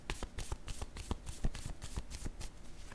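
Tarot cards riffle and snap in rapid, uneven bursts as the deck is shuffled by hand, close and crisp with no talking.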